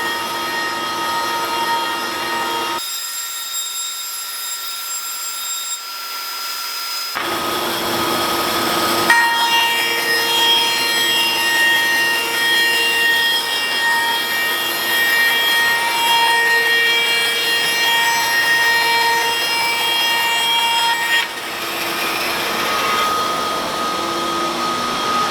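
A table saw fitted with a power feeder rips wood into strips, a steady loud whining hum of blade and feeder motor with a brief drop in level before the cut loads up and runs continuously to the end.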